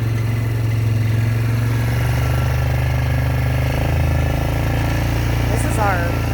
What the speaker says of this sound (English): I'm sorry my four-wheeler's so loud